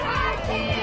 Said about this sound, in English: Ganda ng cheering dito.